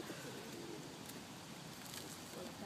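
Pigeons cooing during mating season, a soft, continuous murmur of low calls from nearby birds against steady outdoor background noise, with no speech.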